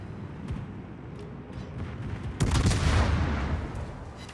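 Naval gunfire in World of Warships: a dense rumbling backdrop of distant booms, then a louder heavy salvo about halfway through that swells into a prolonged roaring rumble before easing off.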